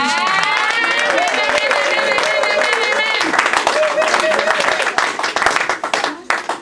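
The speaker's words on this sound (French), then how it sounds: "Acclamons pour Jésus" A church congregation breaks into lively clapping and cheering, with dense hand claps and raised voices that thin out into scattered claps toward the end.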